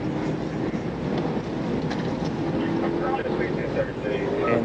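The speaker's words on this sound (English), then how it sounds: "And the way it took off, as you can see from the title, it is a Trackhawk." White Jeep Trackhawk, a 707-horsepower all-wheel-drive SUV, fleeing police in Atlanta, its engine roaring hard under acceleration in a continuous, fairly loud, rising drone.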